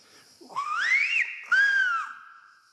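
A man whistles two long, clear, gliding tones of the Greek whistled language, one rising and one falling, separated by a short gap, close and loud in a quiet space.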